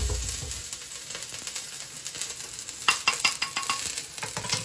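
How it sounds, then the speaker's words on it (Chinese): Chopped scallions crackle in a little hot oil in a wok, a soft steady sizzle broken by sharper clicks and stirring scrapes toward the end. "咱们放一小点葱花， 爆一下香。"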